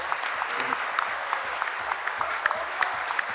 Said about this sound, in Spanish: Regalémosle un aplauso a esa selección que nos representó también